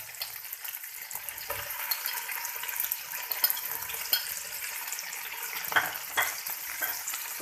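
Tomatoes added to ginger and garlic fry and get stirred in a pan with a little water, giving a steady close sizzle broken by scraping stirs throughout, with no talk.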